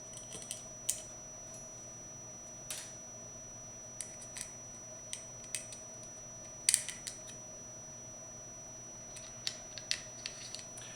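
Small, faint metallic clicks and ticks scattered irregularly as the three frame screws of a Smith & Wesson 422 .22 pistol are snugged down with a screwdriver during reassembly, with no talking.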